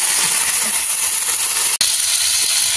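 Chicken curry fries in a pan over a fire in a village kitchen, a loud, continuous sizzling hiss broken by one brief cut near the middle.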